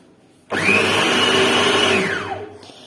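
An electric grinder whirs loudly as it chops beef shami kabab mixture with green coriander. The motor spins up, holds a high steady whine for about two seconds, then winds down.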